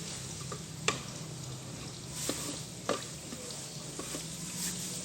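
Bay leaves and lime leaves being stirred into a pot of home-style patin fish curry, with a few sharp scraping clicks of the spoon over a low, steady simmering hiss.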